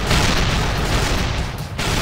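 Continuous booming cannon fire from the video game Assault Gunner, loud and dense with overlapping blasts and rumble filling the whole stretch, no pauses between shots.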